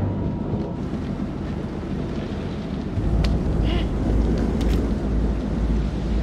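Thunderstorm in the Man of Medan video game, a steady broad roar of wind and rain with a deep rumbling swell of thunder growing heavier partway through, with faint scattered higher sounds over it.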